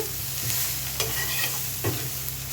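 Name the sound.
stirring onions frying in a pan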